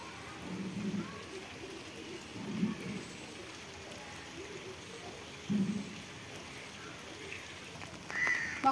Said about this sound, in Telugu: వర్షం మట్టికి కురుతూనే ఉందండి, చినుకులు పడుతూనే ఉన్నాయి.